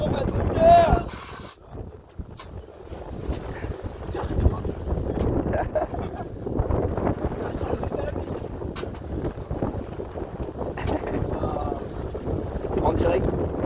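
A boat's engine drones steadily at sea, with heavy wind buffeting the microphone throughout and voices talking over it.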